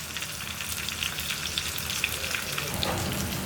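Tomato sautéing in hot oil in a pan for buttermilk curry with pumpkin, giving a steady close crackling sizzle with small pops and no talk over it.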